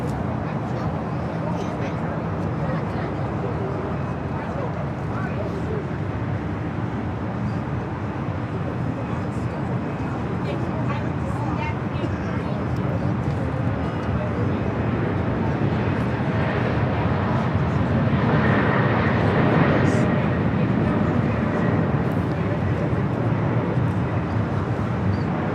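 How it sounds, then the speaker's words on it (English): Hawaiian Airlines Boeing 787-9 Dreamliner bound for Honolulu rolls for takeoff on the south side at LAX, its engine roar a steady broadband rumble that swells slightly toward the end, with a voice talking over it. "Hawaiian flight 3 heading to Honolulu, 787-9 Dreamliner. Next takeoff on the south side."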